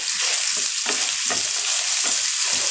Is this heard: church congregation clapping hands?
no